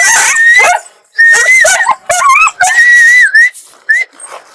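Guard dogs at a hillside hermitage run up close, loudly yelping and whining in repeated high-pitched bursts with short pauses between.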